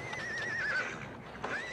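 A horse whinnies in a wavering, fairly faint call under background noise, followed by a second short neigh.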